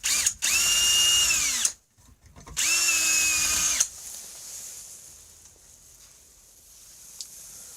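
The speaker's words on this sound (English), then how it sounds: "if you have a good cobalt set, these are cobalt, will drill through any metal" A power drill with a cobalt bit boring an oil hole into the metal crankcase of a Polaris XLT snowmobile, two loud whining bursts spinning up and down, then quiet scraping afterward.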